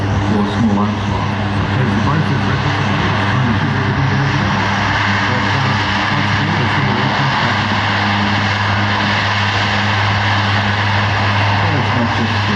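Military aircraft at the Wings Over Illawarra airshow in Sydney, including a Caribou and a C-17, drone loudly and steadily with a constant engine hum, while a commentator talks over it.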